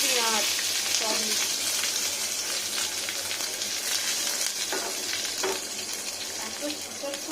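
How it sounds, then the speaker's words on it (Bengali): Dried red chili and cumin seeds sizzle as a tempering in hot oil in a pan, a loud continuous frying hiss close up, with a voice speaking over it now and then. "একটা শুকনো লঙ্কা ফোড়ন আর একটু জিরে ফোড়ন"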